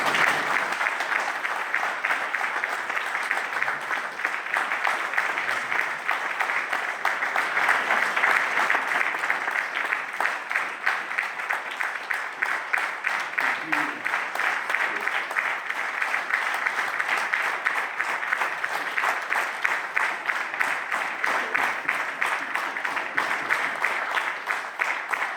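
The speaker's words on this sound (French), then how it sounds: "Ces applaudissements spontanés, chaleureux, eh bien, sont simplement pour te remercier." Audience applauding warmly at a civic New Year's greetings ceremony in Aunay-sous-Auneau, a dense, steady clapping that continues evenly and unbroken for the full length.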